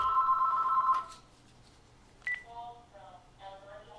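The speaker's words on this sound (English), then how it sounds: "just turning my phone off and it's going to ring way in the background until it stops ringing" A phone rings in the background of a live watercolour lesson, giving a steady electronic tone for about a second, then a short higher beep, followed by a voice talking.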